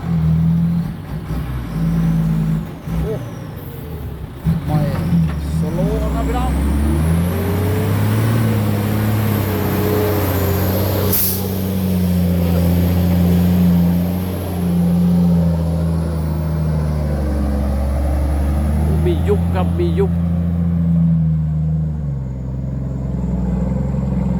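A loud 270-horsepower Deca truck engine roars and revs up, pitch climbing and falling through long pulls, with exhaust rumble dominating throughout and no speech.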